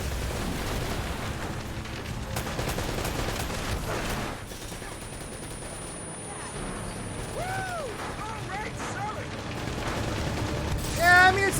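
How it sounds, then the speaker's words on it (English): Uncharted: Drake's Fortune combat with rapid bursts of gunfire and a rocket launcher blast, dense overlapping shots and mechanical clatter, with a person talking over the action. "Rocket launcher!"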